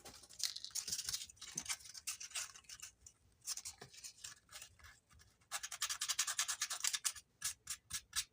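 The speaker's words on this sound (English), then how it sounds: "Sandpaper." Sandpaper rubs back and forth across faux leather in quick, close, quiet scratchy strokes, coming in bursts with short pauses between them.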